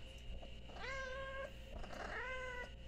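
A blind kitten's meows at home: two clear, rising-then-steady meows, each lasting about half a second, close to the listener over a low background hum.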